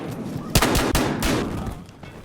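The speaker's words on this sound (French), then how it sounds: "Encore le fusil à pompe." Shotgun blasts in Battlefield Hardline multiplayer gameplay: several sharp, loud booms fire in quick succession over a busy background of game noise.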